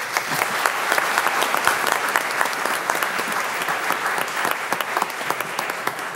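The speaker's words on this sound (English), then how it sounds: "we can give all 3 of them a big round of applause" A school board meeting audience gives a loud, sustained round of applause, dense clapping from a roomful of people with no talk over it.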